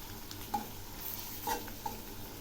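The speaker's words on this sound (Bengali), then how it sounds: "প্রথমে আমি এই পেঁয়াজ রসুনগুলো খুব ভালো করে ভেজে নেব, একদম লাল করে, কতকটা বেরেস্তার মতো।" Onion and garlic fried in a pan until deep golden, stirred a few times with soft utensil scrapes over a low, steady sizzle.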